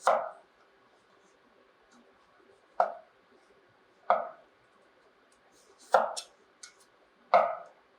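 A kitchen knife cuts vegetables into thin slices about 0.23 cm thick for a Chinese-style vegetable stir-fry, with five sharp, separate chopping strikes on a board spaced a second or two apart, close and alone.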